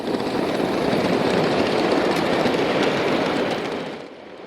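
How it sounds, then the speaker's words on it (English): A ride-on miniature train rumbles steadily past at close range, a continuous loud roar that fades slightly at the end. "Our train arrives at the first pickup at Rio Grande."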